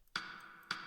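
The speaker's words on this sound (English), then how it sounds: "And then here, side stick sound." Two crisp, dry side stick clicks from a synthesized drum sample in LMMS, spaced about half a second apart, short and fairly quiet.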